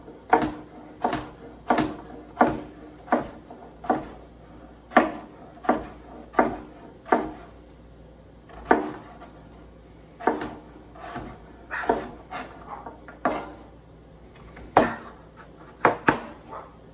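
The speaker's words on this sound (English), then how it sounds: "I'm going to try and chop these to the same" Knife chopping winter vegetables into even pieces on a board for roasted soup, a steady series of sharp, close knocks with brief pauses between runs of strokes, no talking.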